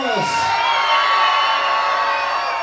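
Outdoor concert crowd at a town rose festival cheering, whooping and shouting continuously, a dense steady roar with a high yell near the start and a loudspeaker tone ringing through.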